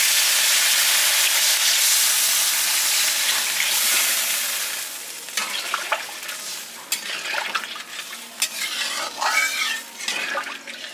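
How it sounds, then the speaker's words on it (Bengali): Water poured into a pan of sizzling Bengali fish curry with potatoes, a loud rushing hiss that fades into gentle bubbling, followed by the scrape and clink of a spoon stirring. "আমি জল দিয়ে দিচ্ছি।"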